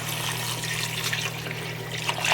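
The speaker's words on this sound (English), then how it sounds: "I'm going to add my 6 cups of water." Six cups of water pouring into a pot of Persian herb stew with dried limes, a steady close splashing trickle over a low hum.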